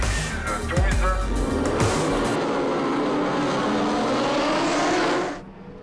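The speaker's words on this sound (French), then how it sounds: "Et très bon départ de Masson qui vire au premier virage en 2e position derrière son leader Julien Dacosta" Superbike motorcycles accelerating hard off the line at a French superbike race start at Ledenon, a loud dense engine roar that holds steady and then cuts off, with a commentator talking over it.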